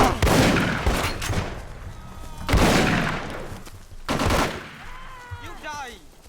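Loud bursts of gunfire and blasts from a grenade in the video game Tunnel Rats 1968 come in three heavy rolling waves, the last fading into a ringing tail, with speech-like sounds in places.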